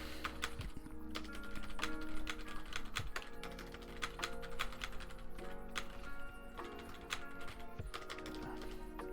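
Someone types on a computer keyboard, a close run of quick, irregular clicks and taps with brief pauses, heard alone without talk.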